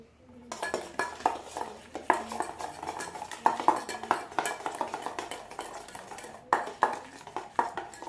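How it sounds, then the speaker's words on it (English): A utensil whisks sauce for deviled eggs in a bowl, giving a quick, continuous run of clinks and scraping taps against the sides, close and fairly loud, with no voices. "Okay, all that sauce is mixed together."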